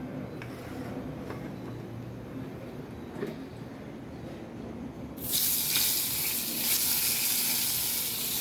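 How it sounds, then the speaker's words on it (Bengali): Paneer pieces fry in oil with a low, steady crackle, then a much louder hissing sizzle bursts up midway and carries on close by. "এবারে এই তেলেতেই আমি পনিরগুলোকে ভেজে নেব"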